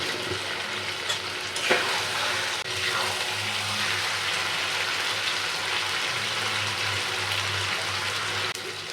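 Pointed gourd and potato sauté in a pan, a steady close broadband sizzle with stirring scrapes and a few clinks, continuous from start to end with no speech.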